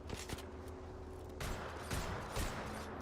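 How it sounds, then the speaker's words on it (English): Gunfire in the Apex Legends video game, with several sharp bursts of shots cracking over a steady background of game sound across a short stretch. "Getting shot at."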